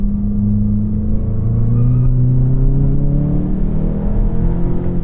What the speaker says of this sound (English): the turbocharged engine, if you guys can tell, there is a bit of lag